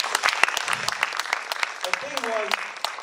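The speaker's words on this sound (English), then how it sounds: "give them a huge round of applause," An audience claps for a group of fishing boat crew members at a live stand-up comedy show, a scattered burst of hand claps with a voice talking over part of it.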